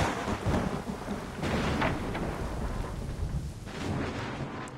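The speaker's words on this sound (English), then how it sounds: "I think it was briefly raining inside." A storm rages in the video game Assassin's Creed III, with heavy rain hissing steadily while deep thunder rumbles roll in and swell, one building midway and another near the end.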